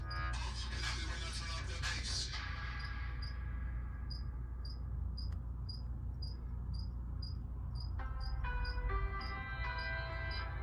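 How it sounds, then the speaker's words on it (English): Pet crickets kept in an indoor enclosure chirp in short, evenly spaced, high bursts, faint but clear, with some brief rustling and clattering near the start and again toward the end. "that's my crickets."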